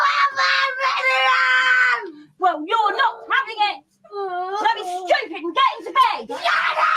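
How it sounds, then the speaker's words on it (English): Loud, high-pitched screaming from British-accented voices, up close, coming in several long bursts with short gaps over about seven seconds. "Why is it so funny when people scream in British accents?"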